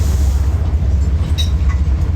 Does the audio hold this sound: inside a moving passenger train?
yes